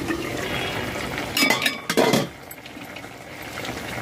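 Water is poured into a pan while a papad curry is cooked, making a couple of short splashing, gurgling bursts in the middle of a quiet kitchen background.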